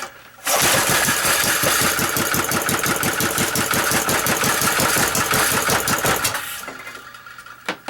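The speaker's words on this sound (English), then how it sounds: "So we turn up the idle a little bit more." A small engine fires after a recoil start and runs at a loud, rapid, steady idle for several seconds before fading down, close by with no talk.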